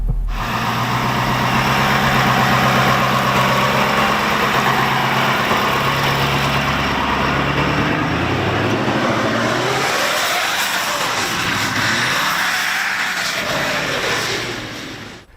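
A Roshel armored vehicle running and driving near the front, its loud engine droning steadily and changing pitch as it moves, with a low rumble swelling and easing toward the end before fading.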